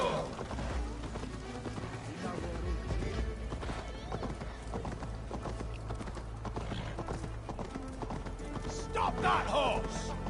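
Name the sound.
horse galloping in video game Assassin's Creed Valhalla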